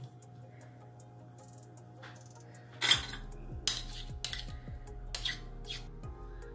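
Knife or spatula edge tapping and scraping against a plate while setting gram flour (besan) is cut into pieces, several distinct clinks and scrapes in a loose rhythm after a quiet start, close and fairly crisp.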